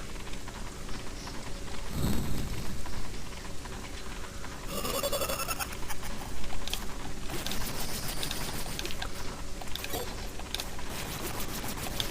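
Steady rain roars throughout a stage of the video game Castlevania Dracula X, a dense wash of hiss with a few brief bursts mixed in and no talking.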